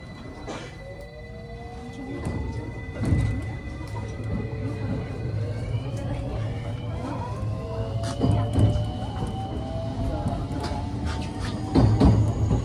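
A local train on its run toward Kyoto rumbles steadily from inside the car, with rising electric motor whines, occasional knocks and rattles, and the noise swelling near the end.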